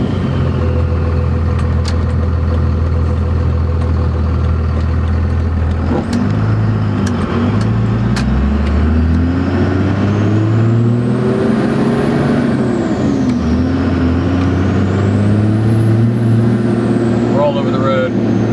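A Dodge Ram 2500 pickup drives on the road with a loud, steady engine drone from inside the cab. Its tone rises and falls as it shifts gears, with speech under the engine noise.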